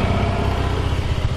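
2010 Harley-Davidson Heritage Classic motorcycle engine idling, a steady low throbbing rumble heard up close in a brief burst, alone without talking.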